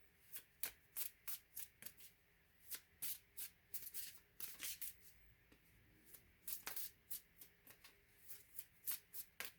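Playing cards are shuffled repeatedly in quick riffling bursts, crisp and close, with a steady uneven rhythm.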